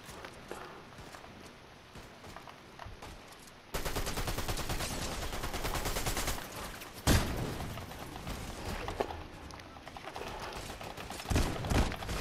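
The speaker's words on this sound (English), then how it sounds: "he's shooting at us" Rapid gunfire crackles through a video game firefight, bursts of shots and loud clatter filling most of the stretch with a few sharper blasts near the end.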